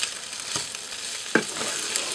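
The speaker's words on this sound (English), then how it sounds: "Right, so I'm just going to give them a quick stir," Pre-cooked roast turkey breast chunks stirred in a pan, giving a soft, continuous sizzle with a few scraping clicks, one sharper knock from the utensil near the middle, no voices.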